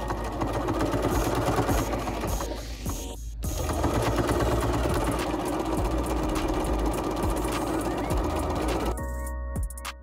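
Sewing machine stitching the short edge of a folded fabric brim for a reversible bucket hat: a steady, close mechanical whir with rapid needle chatter that pauses briefly near the start and stops toward the end.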